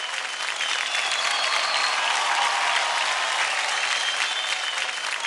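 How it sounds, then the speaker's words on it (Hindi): Loud, sustained applause from a large TV dance-show studio audience, steady clapping filling the whole stretch without pause. "चलो इसी बात पे जोरदार तालियां हो जाए शाहिद कपूर के लिए"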